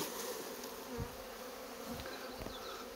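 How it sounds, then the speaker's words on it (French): A honeybee swarm that emerged from the hive the day before hums in a steady, dense buzz close by, with a few brief bumps and knocks and no voices. "Voilà, ça c'est un essaim qui est sorti hier."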